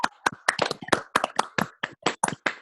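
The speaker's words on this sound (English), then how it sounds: "Everyone clap for him" A small group at a knife leadership training session claps for a student, giving sparse, separate handclaps in an uneven rhythm with brief silent gaps between them.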